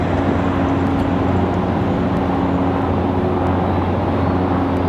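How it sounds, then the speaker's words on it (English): A Cessna light aircraft at Raleigh-Durham airport, a continuous droning engine hum with a steady low tone, close and even throughout. "A Cessna, possibly."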